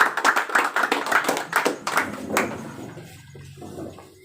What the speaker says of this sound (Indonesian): kita berikan tepuk tangan buat ranting Sunggal dan ranting Lalang